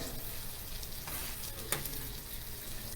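Beef fillet for beef Wellington searing in a hot pan, a steady crackling sizzle close up with one brief sharp clack partway through.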